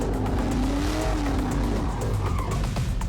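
A car's tires squeal continuously under heavy throttle during a test drive, a loud, steady screech over engine roar lasting a few seconds without talk.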